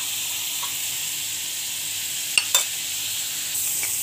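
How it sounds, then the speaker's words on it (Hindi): Khoya roasts in a pan with a steady, even sizzle. A couple of quick stirring scrapes come near the middle and a faint one near the end. "अब मैं इसे भूनती हूँ"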